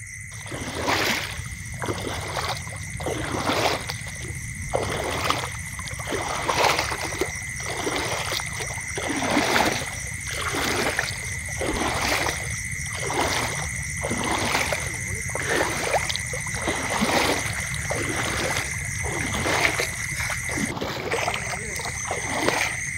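A boat moves across water with rhythmic oar or paddle splashes roughly once a second, each stroke a soft wash, over a constant humming drone that continues throughout.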